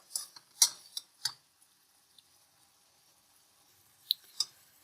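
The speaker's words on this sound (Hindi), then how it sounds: "तो बस हलवा भुन रहा है।" Almond halwa roasting in a pan, stirred with a spoon: sparse, quiet scrapes and clicks in short bursts, with long near-silent gaps between them.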